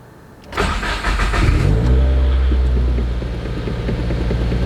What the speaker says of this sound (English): Here's a nice cold start, well, semi-cold start.